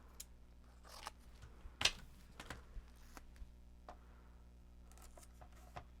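Scissors snip a new piece of tape during a pet grooming session, a few quiet close clicks and one sharper cut near the middle, spaced irregularly over a low hum.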